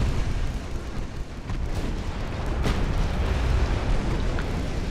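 A naval gun salvo in a 1900s Japanese-campaign warship game: a heavy, rolling boom that blends into a sustained low rumble, with a slightly sharper crack midway.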